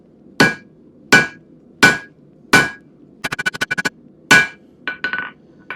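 Hammer striking blacksmith tongs on an anvil while forging tongs for a foundry crucible, sharp ringing metallic blows at a steady pace, one quick rapid flurry of light taps in the middle, then lighter strikes to finish.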